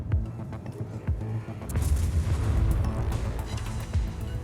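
A main-gun salvo from the heavy cruiser Prinz Eugen in World of Warships, a deep booming volley that erupts partway in and rolls into a sustained heavy rumble after quieter distant gunfire.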